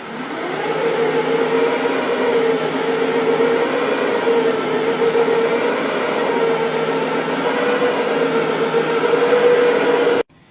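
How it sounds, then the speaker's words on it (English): A Brush Pro carpet cleaning machine with two counter-rotating brushes runs for dry soil removal on rug carpet, giving a loud, steady motorized whir that holds unchanged for about ten seconds before cutting off abruptly. "You can use our Brush Pro for dry soil removal. It's got two counter-rotating brushes"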